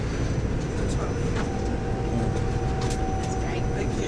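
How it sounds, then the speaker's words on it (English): Passenger train running north from Oxford toward Banbury, a steady low rumble and hum of the moving carriage heard from inside, with faint rattles and a thin tonal whine. "This train is heading virtually due north."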